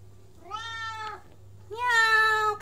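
Timmy the cat gives two clear, close meows, a shorter one followed by a longer, louder one, in a quiet room with a low background hum.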